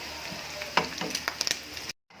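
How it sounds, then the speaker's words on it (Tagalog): Onion and garlic frying for pork adobo, a steady soft sizzle with a few brief clinks and stirring taps, close by, cutting off abruptly near the end. "Medyo golden brown lang natin yung ating sibuyas at bawang."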